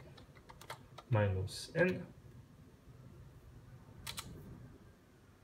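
Keystrokes on a laptop keyboard entering a router command, a few scattered taps at close range with a voice speaking over them midway.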